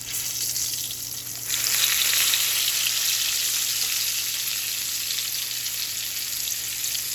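Pickled squash frying in a pan for dinner gives a loud, steady sizzle. It surges as more goes in, then settles into a dense, even crackle. No one speaks.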